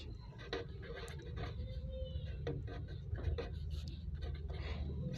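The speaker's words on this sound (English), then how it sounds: "Now we write down in words." A pen scratches across paper as numbers are written out in words by hand, a soft irregular scribbling with brief strokes and pauses, close and quiet, over a low background hum.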